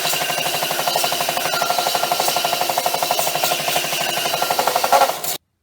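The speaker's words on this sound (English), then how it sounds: "I'm going to sand it and make it nice and level so it matches up nicely." Wooden end pieces for a homemade weapon rack are sanded flat and level, giving a steady, rapid, rhythmic rasping that runs close and loud without a break for about five seconds before stopping abruptly.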